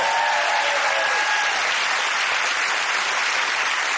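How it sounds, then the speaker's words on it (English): A studio audience at a comedy quiz show bursts into dense, steady applause, loud and sustained with no gaps throughout. "Round of applause"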